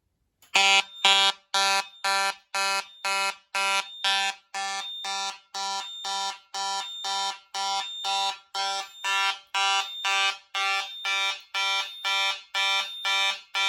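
An Edwards smoke detector, set off with a magnet on a fire alarm test board, sounds a loud, rapid, evenly pulsed electronic tone that repeats continuously with no other sound.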